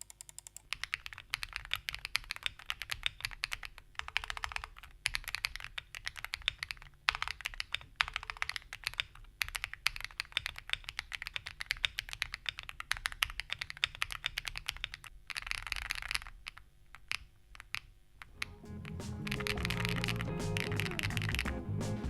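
Steady, rapid clacking of a Monka 6075 Pro wireless 75% aluminium-case mechanical keyboard, close and continuous, with tape behind the PCB, shifting to a denser rattling clatter near the end.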